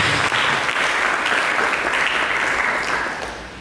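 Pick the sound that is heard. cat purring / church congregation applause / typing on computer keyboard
church congregation applause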